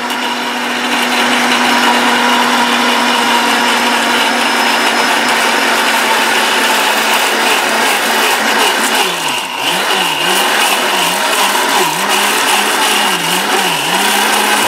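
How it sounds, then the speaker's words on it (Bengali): An Orpat 1600W blender grinding chili paste roars loudly and steadily for about fifteen seconds, its motor pitch wavering and pulsing near the end as the paste churns. "এগুলো খুবই পাওয়ারফুল ব্লেন্ডার আছে"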